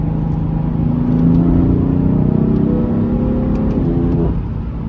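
A stock BMW M3 with about 200,000 miles accelerates while driving. Its engine drones loud and close, rising in pitch through the gears, with a brief shift near the end and no talking.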